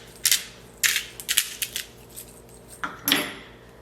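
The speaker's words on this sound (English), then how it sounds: "I'm just crushing them in my hands" Pecans crushed by hand, a handful of sharp, close crackling snaps in uneven bursts over a quiet background.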